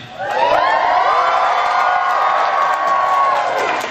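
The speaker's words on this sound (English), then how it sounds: "The crowd cheers Membrane." An indoor crowd bursts into loud cheering and whooping, a dense wall of voices that swells quickly, holds steady for a few seconds, then starts to ease off.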